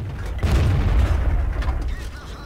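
A tank cannon fires in the video game World of Tanks, one heavy booming shot that swells quickly and decays over a couple of seconds with mechanical rumble behind.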